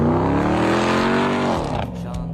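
A supercharged Dodge Ram 1500 TRX plows through snow with a loud, close engine roar whose pitch climbs steadily, then drops and breaks up near the end.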